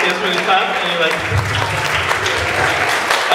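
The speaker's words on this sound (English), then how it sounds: "that's when you clap" Comedy night crowd applauds in a loud, continuous burst of clapping, close and full, with some cheering mixed into the steady wash.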